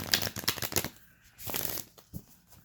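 Playing cards shuffled in a few quick riffling bursts, close and crisp, with short pauses between them and no talking.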